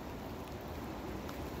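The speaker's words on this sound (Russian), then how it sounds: "Дождь начался." Rain falls outdoors at a fishing pond on an October day as a steady, dense hiss that covers everything, with no breaks and no voices.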